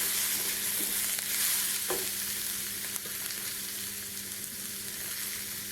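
Tomatoes sizzling and frying in a pan for an oil-free chicken curry, a steady close hiss with faint stirring taps and a soft scrape partway through, no talking.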